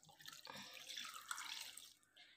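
A cup of water is poured into a bowl of sardine peera mix with salt, curry leaves and slit green chillies, giving a faint, brief splashing trickle that lasts about two seconds.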